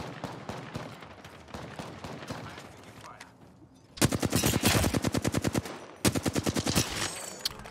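Gunfire in the online shooter Apex Legends: scattered shots under game noise, then two loud sustained bursts of rapid automatic fire, close and dominant, with a short gap between them.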